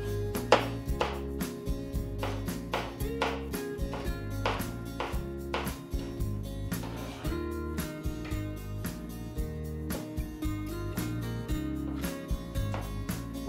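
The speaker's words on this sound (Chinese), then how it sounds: "首先呢，我们先将凤梨、木耳这些东西都把它切成块哦" A knife chopping pineapple, wood ear mushroom and chili on a cutting board for a pineapple and wood ear stir fry, steady rapid thuds in a brisk rhythm, close and clear over soft background music.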